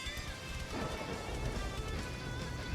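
A storm in the pirate game Sea of Thieves brings steady, dense rain with low rumbling thunder underneath, a continuous wash of sound at moderate level with no talking.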